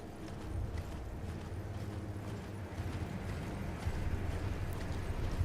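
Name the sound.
summoned horse Torrent's hooves clip-clopping, from a video game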